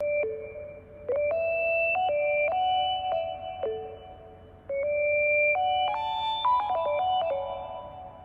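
Bright electronic synth tones, triggered by touch through a MIDI circuit, step between sustained pitches, holding each note for a moment before jumping to another, clear and loud with no talking.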